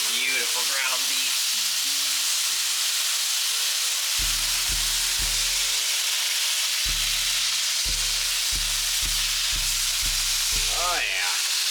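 Ground beef sizzles and crackles in a hot pan as a utensil chops through the big hunk, giving a steady frying hiss broken by scraping strokes. Low synthetic music tones play underneath.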